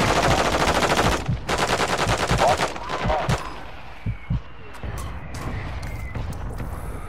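Rapid automatic gunfire from the Call of Duty Warzone Ashika Island map, a dense loud burst for over a second, then shorter volleys and scattered single shots with game effects.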